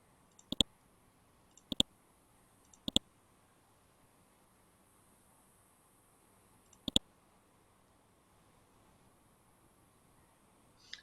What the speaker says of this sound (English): I'm just clicking on it.